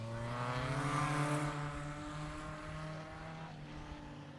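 Race car engines roar steadily around the Weskus oval track, a sustained, fairly loud drone with rising and falling pitch as cars circle, several engines overlapping at a distance.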